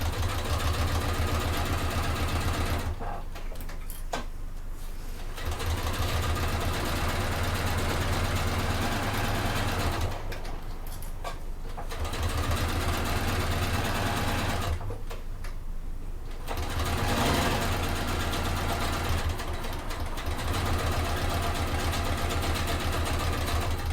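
A sewing machine stitches fabric strips for a fold over clutch bag in three long steady runs, with short pauses between them. The motor hums loud and close, with no talk over it.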